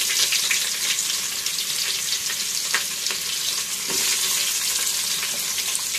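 Onion frying with bay leaf and cinnamon in hot oil for bagara rice: a loud, dense, steady sizzle close up, with a few faint stirring scrapes and no talk.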